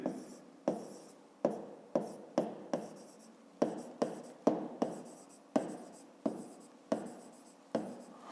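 Pen writing on paper during a 5th-grade math exercise: repeated short scratchy strokes in an irregular rhythm, each a quick burst fading out, close and fairly quiet, with no talking.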